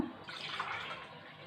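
Water for rice and toor dal poured into a cooking vessel, a short, quiet splashing trickle lasting about a second and a half, with no talk.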